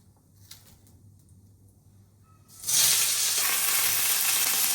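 Prawns hit a hot pan with chopped onion and radhuni and burst into a loud, steady sizzle that continues to the end, after a quiet stretch of faint background noise.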